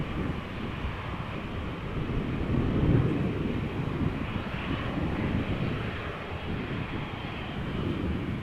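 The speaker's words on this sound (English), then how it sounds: "I think we have the second A350 Singapore Airlines" A Singapore Airlines Airbus A350 airliner at Amsterdam Schiphol gives a steady, broad jet roar that swells slightly near the middle, heard from a distance outdoors with some wind buffeting and no talk.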